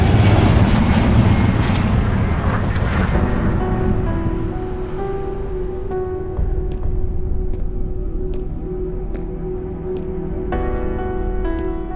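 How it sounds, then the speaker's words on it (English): An airplane passes overhead in the Half-Life 2 Underhell game, a loud broad engine roar that fades over several seconds into a low steady drone, with faint high metallic pings scattered through it. "It's a goddamn airplane!"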